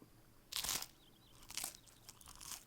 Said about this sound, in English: crunchy bread